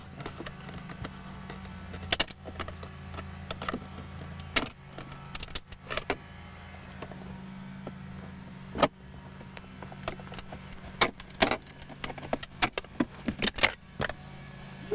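Sharp plastic pops and clicks as a screwdriver pries console tabs on a 2004-2014 Ford F150, scattered irregularly over a low steady hum, some loud and close, with faint rattling in between.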